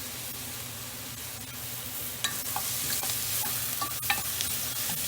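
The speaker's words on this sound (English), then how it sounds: "You want to get some browning on your onions and your garlic" Onions and garlic frying on high heat in a pan for lasagna sauce, a steady close sizzle with scattered scraping stirs and clicks of the utensil, no talking.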